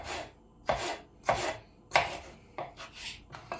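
Peeled potatoes are cut with a knife on a board in a home kitchen, five or six crisp separate chops in an uneven rhythm, close and fairly quiet with no talking.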